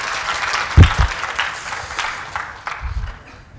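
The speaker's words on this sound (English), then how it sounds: "Round of applause for it." An audience at the MageCONF 2019 conference applauds a speaker, with moderately loud clapping that thins and fades over a few seconds, broken by a couple of low thumps.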